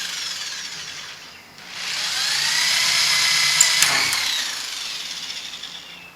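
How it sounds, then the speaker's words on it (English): Electric drill fitted with a small 1/8 inch bit boring into the plastic hull of a Lifetime Tamarack kayak: a steady, close, high whine lasting several seconds, briefly dipping near the start, then running continuously to the end. "Using our electric drill with a small drill bit"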